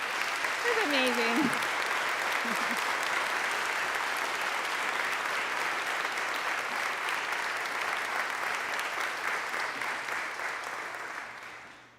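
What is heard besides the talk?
applause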